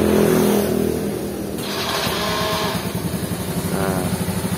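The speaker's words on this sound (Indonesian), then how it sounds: "motor nyala, suara enak halus" A small Honda C50 mini motorcycle engine cranks and catches, then settles into a steady, even putter at idle, loud and close.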